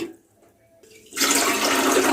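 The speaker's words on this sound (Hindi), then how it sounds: "सबसे पहले हम कोई भी बर्तन ले लेंगे और इसमें पानी डाल देंगे" Water gushing into a cooking pot, about two litres for an Iftar recipe; a quiet pause and a faint knock come first, then a loud, steady rushing pour that continues to the end.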